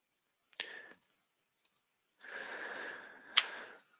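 Two short computer mouse clicks, crisp and close, come at separate moments, each followed by brief quiet rustling in an otherwise silent room.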